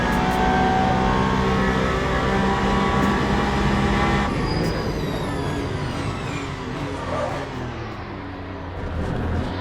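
GT3 race car in the video game Le Mans Ultimate at Bahrain, a loud high-revving engine howl that drops through downshifts as the car brakes hard, with whining tones sweeping down and then building again.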